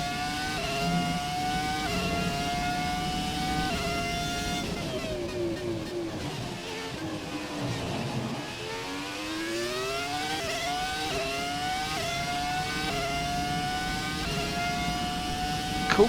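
A Formula 1 car's engine in the F1 2017 racing game, heard from the cockpit, wails loudly and continuously through rising and falling revs as it shifts gears, briefly dipping in pitch before climbing again.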